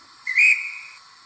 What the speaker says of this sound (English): Let's try guard whistle 14.